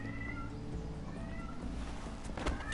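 A cat meows through a dramatized game scene, the call rising over a low, steady background hum with a brief louder burst near the end; no speech is evident.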